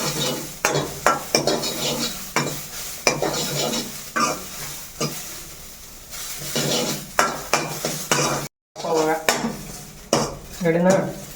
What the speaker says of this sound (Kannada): ಈ ಥರ ಆಯಿಲ್ ಹಾಕಿ ಮೇಲೆ ಚೆನ್ನಾಗಿ ಮಿಕ್ಸ್ ಮಾಡಿ, ಎಲ್ಲ ಫ್ರೈ ಆಗುತ್ತೆ.